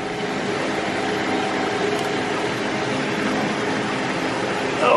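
A steady, broadband mechanical whine and rush from a small 4-inch micro hydro turbine runs continuously, loud and close, with a brief swell near the end.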